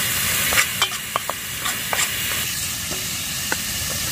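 Oil poured into a hot pan over an outdoor cooking fire, a loud steady sizzle and hiss with sharp crackling pops scattered across it, close and without speech.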